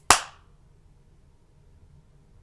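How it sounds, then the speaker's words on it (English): A single sharp hand clap rings out at the start, followed by near silence. "should we do like a clap to sync it easily?"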